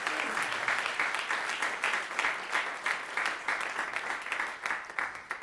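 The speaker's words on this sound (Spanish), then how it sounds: "Dale un aplauso." A church congregation claps during a Spanish-language worship meeting, the applause pulsing in loose rhythmic waves rather than a smooth wash, moderately loud and without speech.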